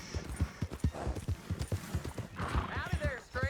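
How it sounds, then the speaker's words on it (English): Horse hooves clip-clop steadily in Red Dead Redemption 2 while a horse neighs and whinnies, the hoofbeats rhythmic and close under talking voices. "Hey, that's a nice looking horse you have there."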